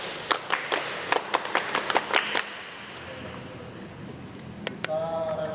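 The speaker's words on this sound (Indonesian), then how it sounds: "Tepuk pramuka dulu satu kali." Students at a school clap the rhythmic Scout cheer, tepuk pramuka, once more: a crisp run of about ten evenly spaced claps that stops abruptly, followed by quiet room tone and a brief voice.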